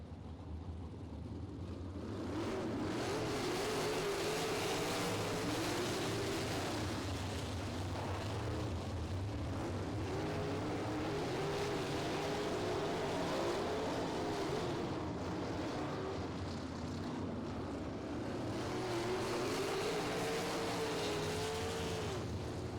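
Sprint cars roar around the dirt oval at Lincoln Park Speedway during a heat race, a dense, continuous engine drone with rising and falling pitch as the pack circles, loud and unbroken throughout.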